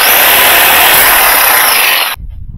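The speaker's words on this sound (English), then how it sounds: "First thing we want to do is cut off this part, put it in a vise, take the saw," A hand saw cuts through a plastic washing machine lid switch clamped in a vise, giving one loud, close, harsh rasping stroke that scrapes steadily for about two seconds and then stops abruptly, with no talk.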